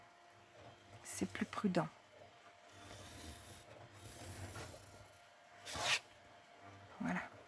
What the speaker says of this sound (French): Vous entendez bien l'imprimante là.